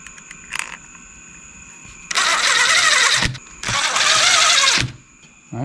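Two long bursts of a jet ski engine cranking over on its starter, wired temporarily outside the machine, each a loud fast whirring spin lasting over a second, with an electrical whine between.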